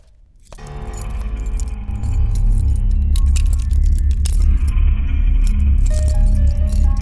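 A bunch of keys jangles and clinks up close, loud and steady, as someone gathers them to open a locked door, with rattling metallic chinks throughout.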